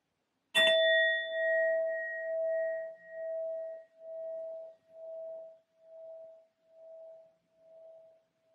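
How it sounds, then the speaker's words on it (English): A sound bowl is struck once, giving a bright metallic ding that rings on as a long, pure tone, pulsing gently and fading slowly over several seconds in a quiet room. "I'm first going to use my sound bowl to clear and set the energy."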